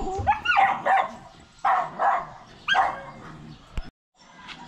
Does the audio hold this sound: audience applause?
no